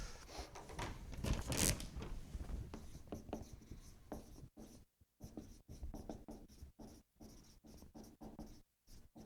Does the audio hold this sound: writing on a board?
yes